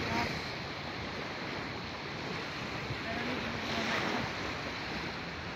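Waves wash ashore at a beach on a mild December day in a steady broadband rush. Heavy wind buffets the microphone with no break.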